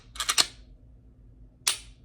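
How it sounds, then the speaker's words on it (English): AK rifle fitted with a Flex trigger fired in a quick burst of three sharp cracks, then a single shot after a short pause, close and loud with no talk. "Boom, gunfire."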